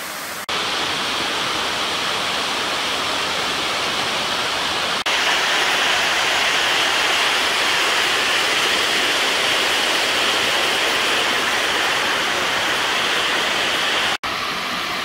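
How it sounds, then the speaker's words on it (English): Jungle waterfall in Bali roaring as a steady, loud, unbroken rush of water that fills the whole scene, with no voices. "20 minutes walk to the waterfall"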